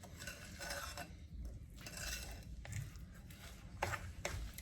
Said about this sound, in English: So I'm just mixing this now so we get like brown sugar.